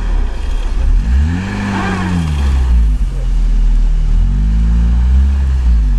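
An off-road vehicle, one of a group of Niva, UAZ, Duster and Isuzu trucks, accelerates down a slope with a loud, steady engine roar that rises and falls in pitch throughout, with voices talking over it.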